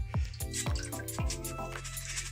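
Murky water from rinsing sushi rice is tipped out of a container, giving a quick run of four or five close, bubbly drips and glugs with ringing splashes before the pour trails off.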